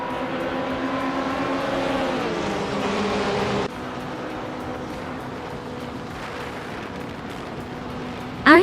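A 2006 Panos Esperante GT4 race car in a racing video game, its engine droning loudly and steadily, with a rising tone that cuts off abruptly into a lower, rougher roar, then a brief loud burst at the end.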